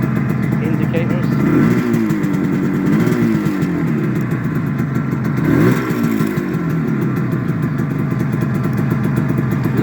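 Benelli 250 2C two-stroke motorcycle runs nearby with a buzzing, slightly clattery idle and a few quick throttle blips, while someone talks throughout.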